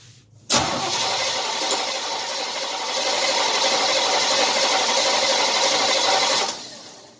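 A 1978 Chevy C10 350 V8 fitted with an Edelbrock intake kicks in abruptly, then holds a loud, steady engine roar for about six seconds before cutting off.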